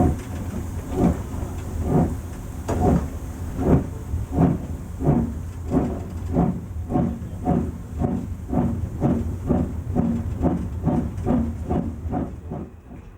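Rhythmic steam chuffs burst from a steam locomotive as the driver gives steam, each a broad hissing puff repeated steadily about twice a second, close and loud over a continuous low rumble with no talking.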